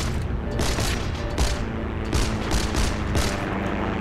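Rapid, distant bursts of gunfire from the online war game Heroes & Generals, with several quick cracks repeating over a dense, rumbling battle background without voices.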